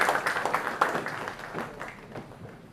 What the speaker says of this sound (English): Please may I have a huge round of applause from our audience.